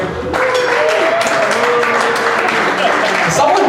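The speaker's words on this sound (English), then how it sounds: "Can I get a clap for my married people out there?" A comedy club audience claps for the married people in the crowd, sustained applause of even loudness lasting several seconds with murmurs and scattered voices mixed in.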